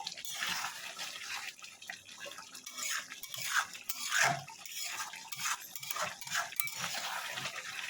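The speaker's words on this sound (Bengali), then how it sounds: "এবার ভালো করে এটাকে আমি কষে নেব।" Chicken curry stir-fried in a pan, with intermittent stirring scrapes, utensil clinks and soft sizzling bursts up close, fairly quiet, with no talking.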